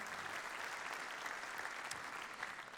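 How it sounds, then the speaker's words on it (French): Applause for award winners at an entrepreneurs' network evening, a steady wash of clapping heard faint and distant throughout the short stretch. "Vous pouvez les applaudir, hein, ces lauréats."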